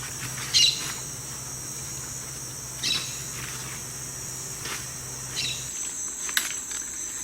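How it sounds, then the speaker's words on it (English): Cricket chirping in the Colombian Amazon: a continuous high, shrill trill runs steadily throughout, with a few brief bird calls and squawks breaking in and no talking. "This is a cricket."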